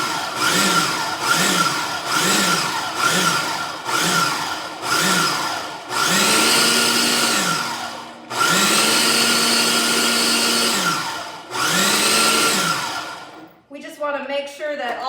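Kitchen machine blending nuts and peanut butter for energy balls, loud motor whirring in short pulses then longer runs, each burst rising and stopping, followed by a voice at the end.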